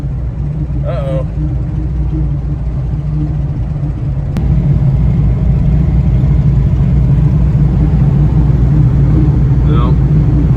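A car drives along a road near wildfires, with a loud steady engine and road rumble throughout. The rumble grows a little stronger partway through, and a voice talks briefly under the engine noise.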